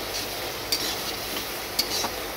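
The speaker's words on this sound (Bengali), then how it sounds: "এবার আমি চিকেনগুলো একে একে দেবো আর নাড়াচাড়া করে দেবো।" Chicken pieces go one by one into a hot pan of spices and are stirred while cooking in a Bengali home kitchen. A soft continuous sizzle runs under two sharp utensil clinks against the pan.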